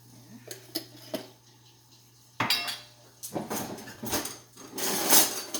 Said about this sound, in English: so you have to stir the pot